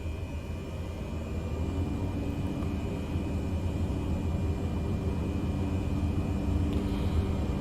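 An airplane takes off in Microsoft Flight Simulator 2020 as a steady, dense engine roar and rumble, loud and continuous throughout with no breaks.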